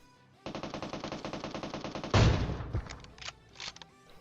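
Gunfire in PUBG Mobile, including an AWM sniper rifle: a fast run of evenly spaced shots, then one heavy booming report, followed by a few scattered sharp cracks.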